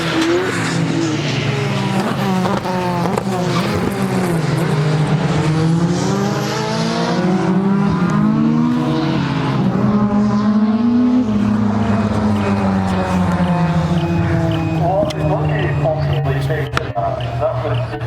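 Mark II Ford Focus RS race car running over 1,000 horsepower cornering at Knockhill during FordLive, its loud engine note rising and falling through gear changes with tire squeal and skidding across a long, sustained pass.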